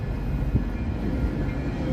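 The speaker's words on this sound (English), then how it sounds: "That's the sound of the horn of the train we heard." A steady low rumble of a Metro diesel train rolling past at a distance by the Chicago Riverwalk, continuous and even with no voices.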